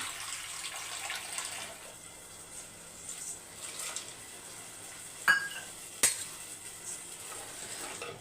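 A pot of potato masala with gram flour and turmeric simmers on the stove with a steady soft bubbling hiss, broken by two sharp utensil clinks near the end.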